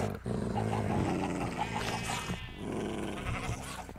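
A wolf-like dog in Minecraft snarls and growls in a run of harsh, close vocal bursts over game background sounds, fairly loud throughout.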